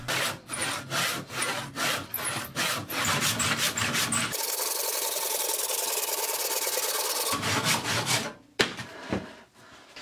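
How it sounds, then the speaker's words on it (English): A large rasp scraping flat the side of an oak slingshot blank: rhythmic rough strokes, then a steady continuous grinding stretch and more strokes, close and loud, with no speech. "I used a large rasp to flatten one of the sides"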